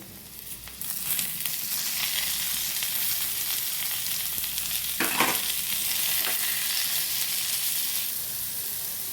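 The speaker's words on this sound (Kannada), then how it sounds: "ಈ ಗೋಡಂಬಿ ಸ್ವಲ್ಪ ಫ್ರೈ ಮಾಡ್ಕೊಳ್ತಾ ಇತ್ತು" Cashews and tomato fry in a hot pan for soya palak gravy, a steady close sizzle with a scraping stir midway and lighter stirs around it, no talk.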